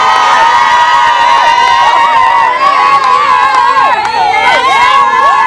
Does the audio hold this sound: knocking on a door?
no